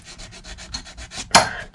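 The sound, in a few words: hand sanding ostrich leather boot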